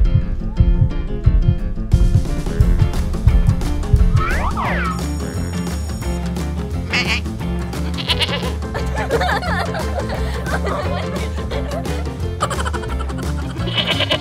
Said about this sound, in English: Just leave the goat with me